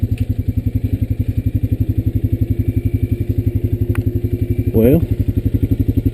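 A Honda Rancher 420 ATV engine thumping with a rapid, even pulsing beat while riding a woodland trail, loud and close, with someone briefly speaking over it near the end.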